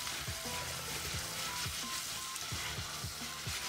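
Beef bourguignon mixture sizzling in hot butter in a saucepan while being stirred, a close, steady frying hiss with regular scraping strokes of the spoon against the pan.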